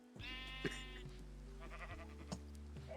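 A sheep in a video game bleats in a couple of wavering, nasal calls over a steady low background hum, close and clear with no talking over it.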